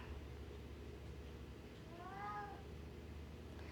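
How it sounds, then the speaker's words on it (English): A single drawn-out cat meow with rising-falling pitch sounds faintly once midway, over a steady low background hum, with no talking. "There's nothing wrong with them cats."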